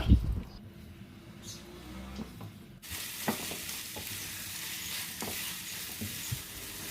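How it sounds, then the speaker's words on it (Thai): A spatula scrapes and stirs chive batter in a frying pan as a steady sizzle rises partway through, with occasional clicks of the utensil against the pan. "ตั้งกระทะแล้วใส่กุ้ยช่ายที่เราผสมไว้ลงไปได้เลย คนไปมาพอแป้งสุกกุ้ยช่ายก็จะติดกันนะคะ"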